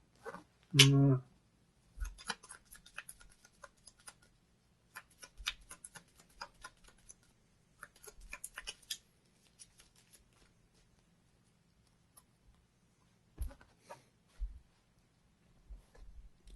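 A deck of cards is shuffled during a Gloomhaven board game session: a sharp riffle burst, then intermittent soft flicks and taps of cards at close range, with quiet gaps between.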